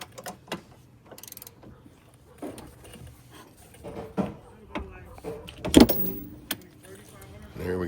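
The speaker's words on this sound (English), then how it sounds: "Just breaking them loose with this big 1/2-inch ratchet." A big 1/2-inch ratchet breaks loose the brake caliper bracket bolts on a fourth-generation Camaro/Firebird, giving scattered metallic clicks and sharp knocks with pauses between, close by.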